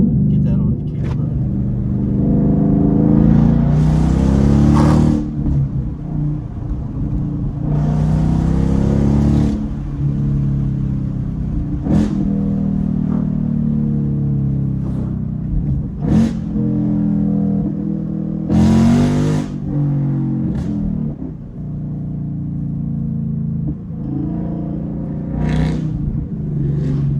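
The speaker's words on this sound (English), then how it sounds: "I still think that this car's straight pipe sounds way better, and I'm gonna see if I can get that on camera" A Ford Mustang GT's Coyote V8 with a straight pipe exhaust rumbles and revs loudly and close by, its engine note swelling in bursts while people talk over it.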